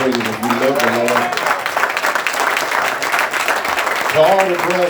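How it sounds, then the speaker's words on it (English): A church congregation claps in praise, steady crowd applause filling the room, with a voice speaking over the start and end of the clapping. "Let's give God a hand clap of praise if you love the Lord."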